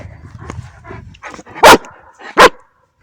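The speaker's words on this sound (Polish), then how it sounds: "Od razu dajesz głos? Super! Super pies!" A dog barking on command, two sharp, loud barks close by, preceded by softer whines and small vocal noises.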